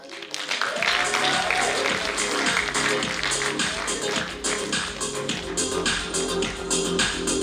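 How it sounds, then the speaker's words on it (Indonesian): Audience applause at a youth public-speaking anniversary event welcoming a guest speaker onstage, dense steady clapping from a crowd that swells quickly and holds loud for several seconds. "kita berikan tepuk tangan untuk Mas Ari Bayu Aji."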